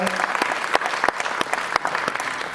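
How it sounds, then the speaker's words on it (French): An audience at a theatre performance claps loudly and steadily for a couple of seconds, with sharp individual hand claps standing out from the dense applause. "Ça s'applaudit vous aussi."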